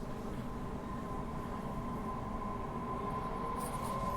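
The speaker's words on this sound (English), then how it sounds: "Here we go, departing Richmond" Sydney Trains T1 A-train pulling out of Richmond station, heard from inside as a steady, loud rumble and hum of the carriage with a sustained tonal whine, continuous with no talking.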